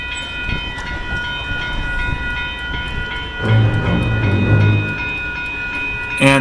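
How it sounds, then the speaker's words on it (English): An Amtrak Hiawatha service train emerging from a tunnel in Chicago, a rolling rail rumble that swells midway into a louder, deeper roar with faint metallic ringing above it. "and then out of the tunnel came one of Amtrak's Hiawatha service trains."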